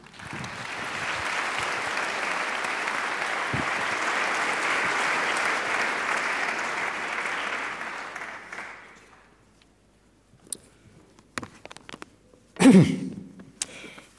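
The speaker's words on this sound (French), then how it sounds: "Je vous demande d'applaudir Alain de Benoist." Sustained audience applause at a 2019 colloquium, loud and steady for about eight seconds before fading out, followed by scattered faint knocks and shuffling sounds.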